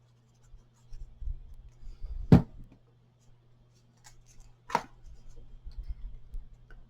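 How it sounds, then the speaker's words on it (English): Craft tape is burnished onto a shaped paper box with light, quiet rubbing strokes, broken by two sharp taps or clicks against the box. "go ahead and burnish it again"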